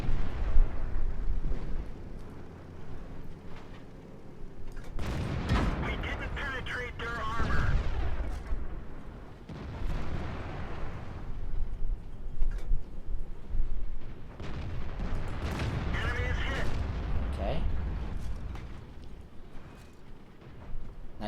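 Tank cannon firing premium rounds in an armored-warfare video game, several heavy booming blasts with rumbling tails spaced across the stretch, under ongoing engine drone and someone talking.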